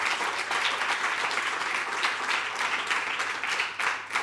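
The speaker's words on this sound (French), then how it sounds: "Applaudissements" An audience at a Swiss comedy talent TV show applauding a jury member's introduction, a dense steady burst of many hands clapping that swells and fades slightly, with no talking over it.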